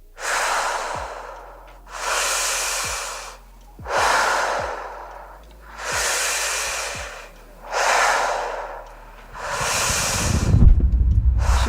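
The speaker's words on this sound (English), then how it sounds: "Shit, breathing hard as hell." Heavy, rasping breaths close on the microphone in a horror game teaser, six long breaths in a slow steady rhythm, each swelling and fading, with a rougher rumbling one at the end.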